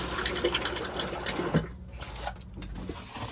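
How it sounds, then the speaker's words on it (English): Water rushing and filling as a caravan toilet in an Elddis Encore 254 is flushed, a steady close wash that briefly thins midway before continuing. "make sure you've got your water pump turned on, and then you can press the flush"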